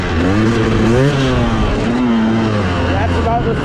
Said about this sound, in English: That's about the slowest wheelie you're going to get from Mr. Jacob on the 250.